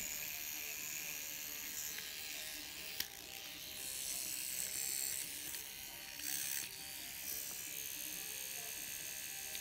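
Tattoo machine with a slight rattle running steadily, a thin high buzzing whir with a few small clicks, close and fairly quiet.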